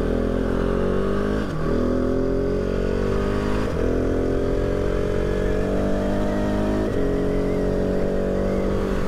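A 2019 KTM 690 Enduro R single-cylinder motorcycle rides steadily with engine note rising through the gears, with brief dips at about 1.5, 3.7 and 7 seconds as it shifts, loud and close throughout.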